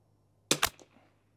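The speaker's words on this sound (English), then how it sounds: "I'll shoot it with my trigger from my left hand" A single rifle shot goes off: a sharp, close crack with a brief second report and a short reverberating tail, over an otherwise quiet low hum.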